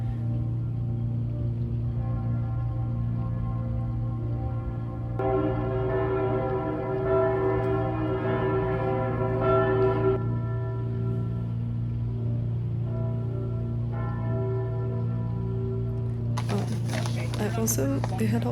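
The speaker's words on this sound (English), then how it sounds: "and I got to hear the bells ring." Church bells ring in repeated bursts of tolling over a constant low hum, with a clatter of louder strikes near the end.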